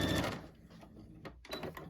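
A sewing machine takes a single stitch during a sewing lesson, a brief close mechanical whir and clack heard alone in a quiet room.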